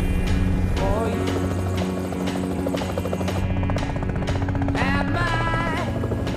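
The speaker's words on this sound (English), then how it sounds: "There's a helicopter." A heli-skiing helicopter throbs loud and close with steady rotor chop, its beat running under music and a brief sung line.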